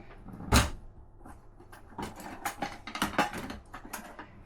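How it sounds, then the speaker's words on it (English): A kitchen drawer or cupboard thumps open once, followed by a scatter of light clinks and rattles as cutlery is rummaged through to pick out a spoon. "Just going to get a spoon."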